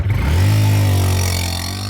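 A Honda CB 150F motorcycle engine revs loudly and close by, its strong low hum holding steady, then easing down as the revs drop.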